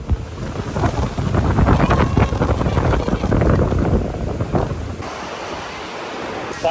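Strong stormy wind and crashing surf on a Boracay beach in the Philippines as a typhoon approaches, a loud continuous roar of waves and gusting wind buffeting the microphone, easing slightly near the end.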